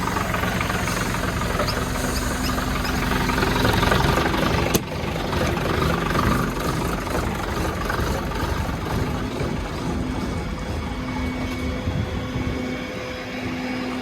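A heavy engine idles with a steady, low, knocking chug for a long stretch, loud and near, with one sharp click partway through, before being stopped by a big red button.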